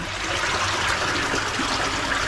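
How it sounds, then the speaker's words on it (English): Water gushing steadily from a pond's bottom drain into a filter chamber, a continuous close, broadband rush and trickle with no pauses. "So the water, any track that's in the bottom drain, will be flying through into there."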